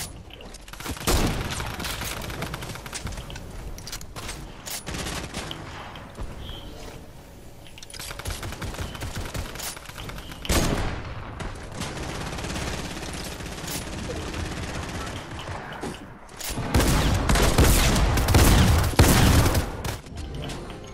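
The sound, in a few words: pistol gunfire in Fortnite video game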